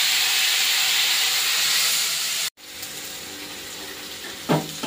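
Vegetables and pumpkin stalks sizzle hard in a hot pan as they are stir-fried with spices, a loud steady hiss that drops off sharply midway, then resumes lower with scraping stirs and a brief burst near the end.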